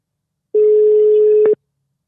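A single steady electronic phone tone, an Italian ringing or busy signal, holds one pitch for about a second, loud and close, then cuts off sharply after a brief click near the end; no one talks.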